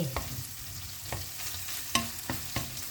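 Pork stir-fried with cabbage, carrot and onion in a pan, with a constant sizzling hiss and several sharp clinks and scrapes from a spatula at irregular intervals.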